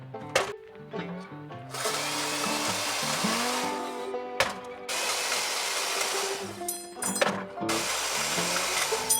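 A power tool cuts through threaded all-thread rod. Its motor gives a loud, close whine in several sustained runs broken by short stops and rattles.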